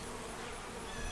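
Honey bees flying in to the hive entrance carrying pollen, a dense steady buzzing swarm close by with no voices.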